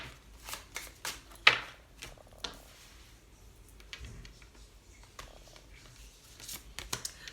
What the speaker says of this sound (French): Allez, on va tirer 5 cartes.